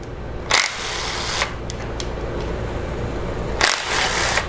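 An impact wrench zips bolts off a Jeep Cherokee engine during VVT timing-control solenoid removal, with two loud, short bursts near the start and end and a brief softer whir between, over steady garage hum.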